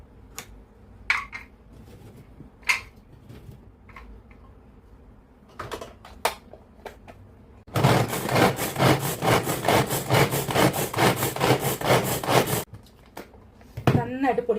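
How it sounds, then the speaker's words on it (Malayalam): Cauliflower and onion are chopped in a kitchen chopper, making about five seconds of loud, rhythmic whirring and rattling. A voice talks before it, with scattered clicks and knocks around the chopping. "ഞാൻ ഇതുമാതിരിയുള്ള ചോപ്പറിലിട്ടിട്ടാണ് ഇത് ചോപ്പ് ചെയ്തെടുക്കുക."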